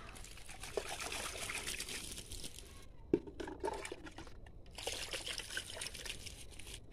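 Water poured onto potted plants trickles and splashes softly and close by, continuing in an uneven stream with small drips and pauses.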